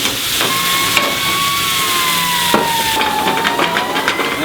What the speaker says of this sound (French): À ce stade-là, on flambe cognac.